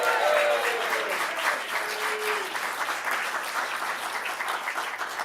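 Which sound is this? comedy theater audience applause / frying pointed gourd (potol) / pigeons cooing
comedy theater audience applause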